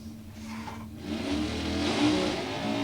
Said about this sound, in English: It's a stick car, so you get to hear him work his way through the gears here on the Sunoco side